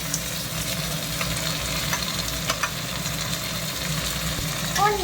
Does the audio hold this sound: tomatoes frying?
yes